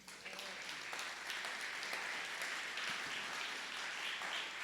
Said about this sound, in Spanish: eso es maravilloso y se merece un aplauso.